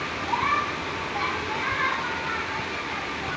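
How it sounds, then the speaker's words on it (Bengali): Steady hiss of rain falling in the background, with distant children's voices faintly audible beneath it. "এই যে অনেক দিনের প্রত্যাশিত বৃষ্টি হইতেছে"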